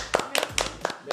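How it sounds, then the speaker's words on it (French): A few separate hand claps for a female director, brief and close, with a voice speaking alongside. "Un applaudissement pour notre réalisatrice."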